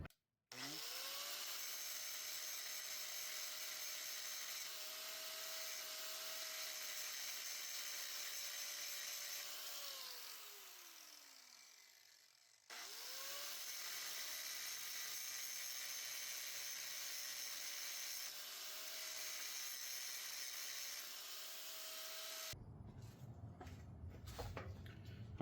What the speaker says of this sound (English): You want to grind off the thinnest one because the other one's thicker than the other